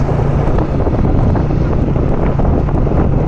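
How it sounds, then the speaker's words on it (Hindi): Cold early-morning wind buffets a microphone outdoors on a rural village road, a steady loud rumbling roar that fills the whole few seconds with no voices. "छोटी छोटी ठंडी ठंडी हवा चल रही है थोड़ी थोड़ी।"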